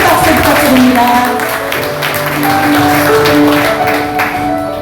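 Audience clapping to welcome a speaker at a civic meeting, loud sustained applause with music and scattered voices mixed in, holding steady over several seconds.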